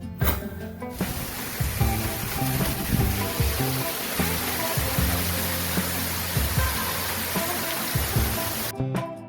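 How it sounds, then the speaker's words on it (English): A waterfall near Belagavi, India, pours as a loud, dense, steady roar of falling water, close and continuous, with brief quieter moments at the very start and end. "So this here is the first waterfall that we encountered on the way."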